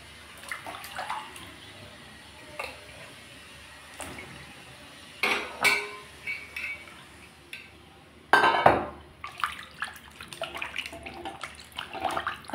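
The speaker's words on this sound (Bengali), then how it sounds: "এখন আমি গরম জলে ধুয়ে নেব।" Pabda fish, already scrubbed with salt, are rinsed in hot water, with intermittent splashing bursts, running-water wash and clinks of a bowl or dish, loudest near the middle and end.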